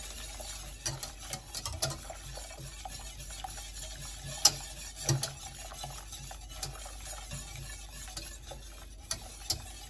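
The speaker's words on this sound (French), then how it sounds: "Le but de remuer, de fouetter tout le temps, ça amène de l'air à la préparation" Whisk stirring lemon tart filling in a bowl, a steady soft scraping swirl with irregular light clinks against the bowl, close and quiet, heard without talk.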